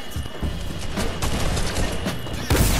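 Tactical shotgun fire in a video game firefight, loud and dense, with a heavy blast near the end.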